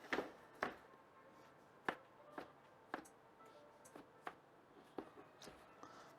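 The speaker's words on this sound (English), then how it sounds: "tomatoes are hard to chop" A knife chops through tomatoes on a cutting board, giving about a dozen distinct, fairly quiet thuds in an uneven rhythm with no talking.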